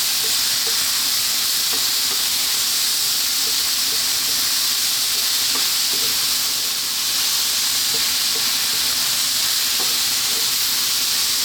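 Vegetables seasoned with oregano sizzle steadily in a hot pan, a loud continuous frying hiss broken by light scraping as they are stirred and kept moving.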